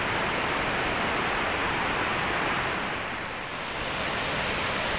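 Broadband rushing roar of water at Glaga Biru below Tumpak Sewu waterfall, steady and loud for the whole stretch with a slight dip in level midway, no voices over it.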